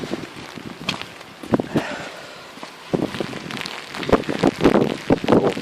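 Rain and gusty wind outdoors on a wet dog walk, uneven patters and crackles of drops hitting the microphone over a low wind rumble, growing busier toward the end.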